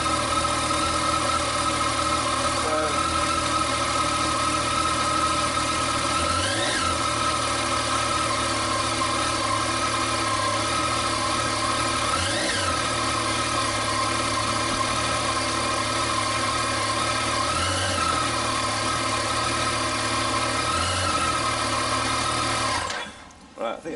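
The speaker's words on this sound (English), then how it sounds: "let's just start the bike up" A Yamaha MT09 (FZ09) motorcycle engine idles steadily and close by, a continuous low throbbing hum with faint periodic revving swells, cutting off abruptly at the very end.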